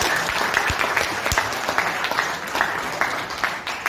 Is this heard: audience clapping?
yes